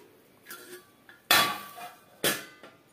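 A metal lid is set down on a pan while jowar roti cooks, giving a few sharp clanks, the loudest two close together, with lighter clinks of cookware around them and no talking.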